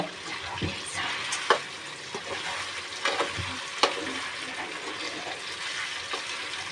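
Fish frying in a pan over low heat, a soft continuous sizzle with occasional sharper pops and bubbling crackles, close and fairly quiet, no talking.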